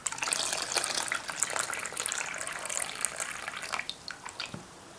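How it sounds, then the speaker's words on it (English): Water poured off the top of settled clay slip, a continuous splashing, gushing pour that runs steadily for several seconds and thins into a few drips at the end, close and alone. "We've just got the water sitting on top, and we'll pour that out."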